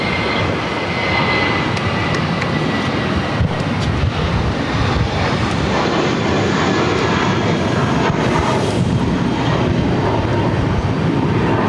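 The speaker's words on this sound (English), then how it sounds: "American Airlines 989 taking off to Washington Reagan National on A319" American Airlines Airbus A319 jet taking off at Boston airport, a loud, continuous broadband engine roar holding steady throughout.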